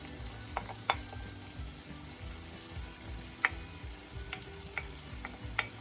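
Thinly cut carrots and saltfish fry in a pan for a breakfast-style saltfish and okra dish, giving a soft steady sizzle with scattered light ticks and taps of a utensil against the pan and no talking.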